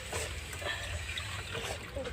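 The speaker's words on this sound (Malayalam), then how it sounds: "പൈപ്പ് ഒന്ന് ഓഫാക്കട്ടെ." Water runs from a tap during cleaning and scrubbing, a continuous splashing trickle at close range, with faint thumps and knocks mixed in.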